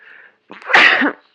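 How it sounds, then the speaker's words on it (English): A woman with springtime allergies lets out a single sharp sneeze, preceded by a faint breathy intake, close and fairly loud, with no speech around it. "So I've been sneezing nonstop"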